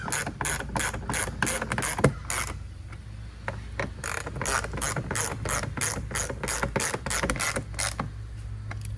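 Ratchet tool rapidly clicking as fasteners on a Sea-Doo GTX front 360 camera mount are tightened down, with steady bursts of close, loud ratcheting and a brief pause near the middle.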